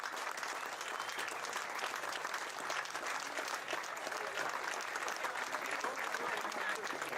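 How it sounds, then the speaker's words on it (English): An auto show crowd gives the overall winners a round of applause, a continuous, fairly distant patter of many hands with a voice talking over it. "could we have a standing round of applause for our overall winners?"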